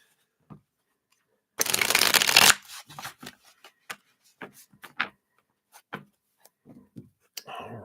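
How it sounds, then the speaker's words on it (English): Tarot cards are shuffled in one loud, close riffle lasting about a second, followed by scattered soft taps and handling clicks as the deck is squared and laid out. "Let me just shuffle here."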